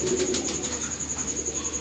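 Pigeon coos with a low rhythmic pulse, a steady close call repeating in soft waves, alongside a female pigeon kept in the same loft, with a constant high whine running underneath.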